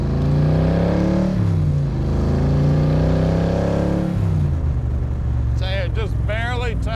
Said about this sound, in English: just barely touching the accelerator